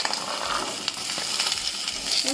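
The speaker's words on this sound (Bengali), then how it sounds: "সবগুলো সবকিছু সুন্দর করে ভেজে নেব" Cauliflower, potato, pumpkin and green peas fry in hot oil for a vegetable moong dal, a loud continuous sizzle with light scraping from stirring.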